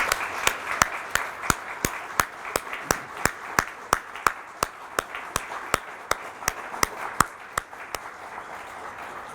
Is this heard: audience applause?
yes